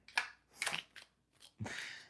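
Tarot cards are shuffled in several quick riffling bursts with short pauses between, close and fairly quiet.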